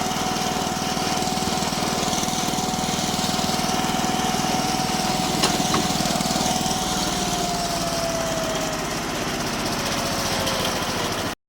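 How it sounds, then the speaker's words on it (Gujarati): A VST Shakti 130DI tractor engine runs at full throttle in a loud, steady drone with no break, its pitch easing down slightly toward the end as it travels along an empty road. "આપણે પણ ટ્રેક્ટર ફૂલ પકડી લઈએ"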